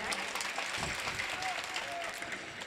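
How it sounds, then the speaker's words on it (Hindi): Applause from an audience at an Urdu literary poetry gathering in Bihar, a brief, moderately faint patter of clapping with crowd murmur. "एक बार जोरदार तालियां बजा दे"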